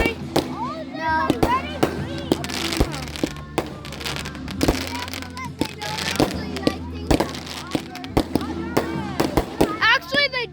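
Fireworks bursting outdoors in a rapid string of sharp cracks and pops with crackling tails, loud and close, while children and adults talk and shout over them.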